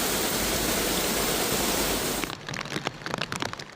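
Heavy rain pours down in a black rainstorm in Hong Kong, a dense, loud, steady roar that suddenly drops away into scattered, patchier splashing and dripping.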